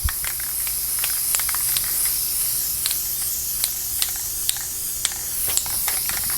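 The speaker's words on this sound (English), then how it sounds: "So this will be the first coat, and pretty simple stuff. We're just spraying it on." Aerosol protective coating sprayed onto a restored Centuri Konami Time Pilot arcade coin door, a steady close hiss broken by short bursts and repeated sharp clicks of the spray nozzle, with no talking.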